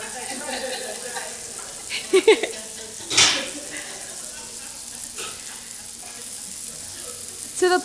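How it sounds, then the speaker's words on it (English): Steady sizzling of tofu frying in a pan, with a few clinks and scrapes of a utensil against the pan. "So now I can hear it sizzling."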